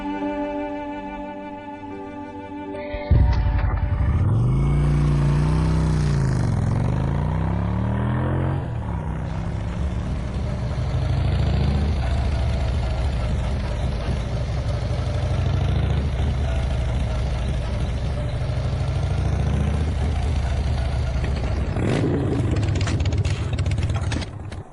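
A repaired motorcycle engine starts and runs steadily, a loud close rumble with a rising whine at first, then a continuous idle that holds for about twenty seconds with no talking.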